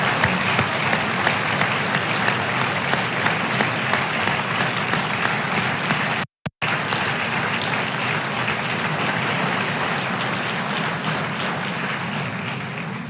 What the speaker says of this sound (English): give him and his 8th grade class a round of applause